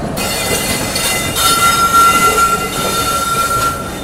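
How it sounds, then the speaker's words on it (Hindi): A train rolls into a railway platform on a Konark Express journey between Vijayawada and Bhubaneswar, a steady loud rumble of wheels with a thin high squeal running across the rails. "लेकिन प्लेटफॉर्म नंबर 1 पर यह गाड़ी जा रही है।"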